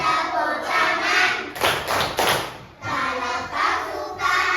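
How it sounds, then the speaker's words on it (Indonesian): Children in a classroom singing a clapping song, their voices carrying the tune while clusters of hand claps land in rhythmic bursts between the lines. "Kalau kau suka hati tepuk tangan"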